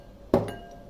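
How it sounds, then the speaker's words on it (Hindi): A single hard knock as a bael wood apple's shell is struck to crack it open: one sharp, hollow thud up close, with a short ringing decay and quiet room noise around it. "ये जो बेल फ्रूट है इसको हम ऐसे मारकर इसको ऐसे तोड़ लेंगे।"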